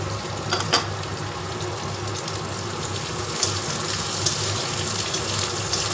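Garlic and green chilli frying with onion in a pan, a steady close sizzle running throughout with a few sharper pops and crackles.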